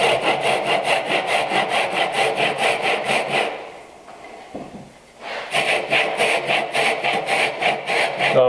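A hand saw cuts wood for a mitered bridle joint in fast, rhythmic back-and-forth strokes, close and loud, with a brief pause halfway before the sawing resumes.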